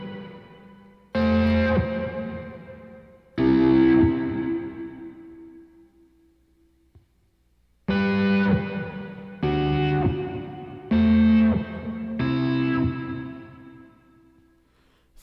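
An electric guitar runs through an Enzo synth pedal combined with reverb on a pedalboard, playing loud sustained synth-like chords in separate stabs, each decaying into a reverb tail, with short gaps between them and no talking.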